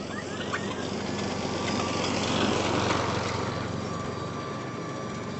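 A 14-inch Cobra Fortis 14E battery verticutter powered by EGO runs continuously on a lawn, a loud close steady whirring drone with its cutting blades raking the grass.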